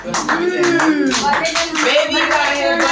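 People clap along at a family birthday celebration, rhythmic hand claps in an even beat while voices sing and talk loudly over them, close and lively.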